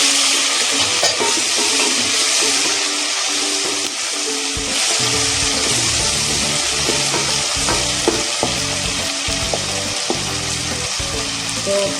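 Tomatoes go into a pan of frying ginger for chicken curry, raising a loud, dense sizzle that continues strongly with stirring clatter for several seconds.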